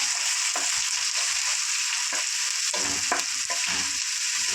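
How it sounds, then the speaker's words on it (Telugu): Three large onions frying in hot oil, a loud continuous sizzle close by, broken by repeated scraping stirs from a spoon against the pan. "ఇప్పుడు ఉల్లిపాయలు వేస్తున్నాను నేను ఒక మూడు ఉల్లిపాయలు వేసుకున్నానండి పెద్దది కేజీకి మూడు ఉల్లిగడ్డ వేసాను ఫ్రై చేస్తున్నాను"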